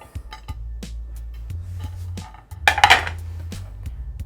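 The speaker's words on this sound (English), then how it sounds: "Mix it up." Cooled cooked potatoes, green beans and asparagus tossed together in a bowl for a potato and mint salad, with soft repeated clinks and scrapes of utensil against the dish and a brief louder clatter midway.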